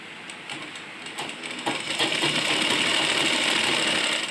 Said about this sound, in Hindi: इसको पूरा इसी तरीके से सिलाई लगा देंगे।